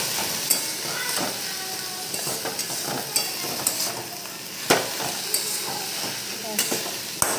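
Teasel gourd leaves sizzle in a hot pan, a steady frying hiss broken by scraping stirs and light clinks of a utensil against the pan.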